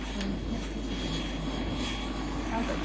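A helicopter engine drones loudly and steadily throughout as a continuous close-up roar, with talk partly under it.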